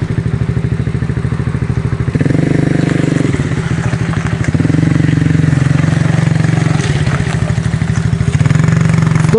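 A Kayo quad bike engine, either the 110 or the 200 model, runs continuously up close with a steady low throbbing pulse, rising and easing slightly as the throttle changes, and nobody speaks over it.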